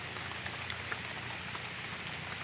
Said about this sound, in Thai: บรรยากาศ ทุ่งนากับสายฝน